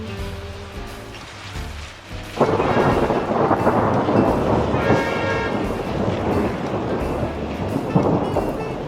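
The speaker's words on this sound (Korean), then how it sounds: "비가 너무 많이 와서 나가지도 못하고" Heavy rain and thunder sound near Thiksey monastery in Ladakh's Indus valley. A deep thunder rumble opens into a loud, continuous downpour with further rolling thunder, close and strong throughout.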